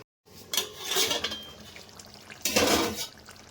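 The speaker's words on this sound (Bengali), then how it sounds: "এবার আমি মাছগুলো দিয়ে দিচ্ছি" Pieces of rohu fish slid into a pan of bubbling gravy, giving two wet, splashing clatters against the pan with a bubbling simmer between them.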